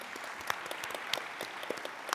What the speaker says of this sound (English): Give the panel a big round of applause